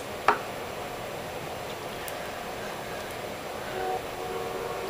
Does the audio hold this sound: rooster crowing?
no